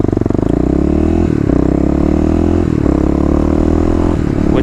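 Kawasaki KLX351 dirt bike engine revving up close and loud, a rising buzzing drone with several quick gear-like dips and climbs, no talking.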